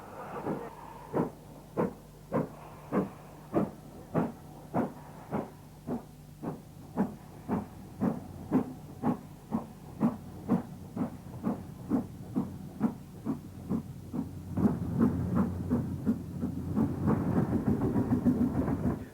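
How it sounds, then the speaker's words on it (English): Princess Coronation class steam locomotive number 46224, Princess Alexandra, passing with a long series of rhythmic exhaust chuffs that quicken into a louder, steadier roar and hiss as it draws near, no talk. "the Scottish-based Princess Coronation class engine, number 46224, Princess Alexandra"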